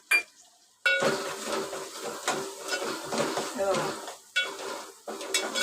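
Masala for chicken rassa is stirred in a pan, with a spoon scraping and clinking against the metal in repeated strokes over a soft sizzle, close up and fairly loud after a brief quiet start.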